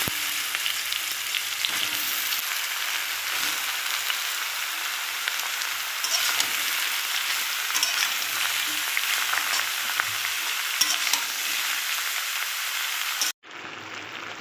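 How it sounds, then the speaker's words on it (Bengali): Chopped bottle gourd fries in hot tempering, a dense, steady crackling sizzle close up that holds evenly for several seconds before cutting off abruptly near the end. "দেখো ফোড়নটা হয়ে গেছে, এবার আমি লাউটা ঢেলে দেবো।"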